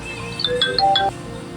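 A telephone rings with a short electronic melody of bright chiming tones, loud and close over a steady background hum.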